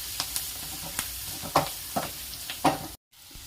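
Chilli powder mixture fries in a pan for puffed-rice snacks, steady sizzling with soft scraping stirs every half second or so, close and moderately quiet, then a brief cut.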